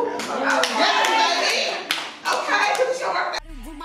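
A group at a birthday dinner bursts into clapping and cheering, with dense hand claps and excited voices for about three seconds before the noise cuts off abruptly.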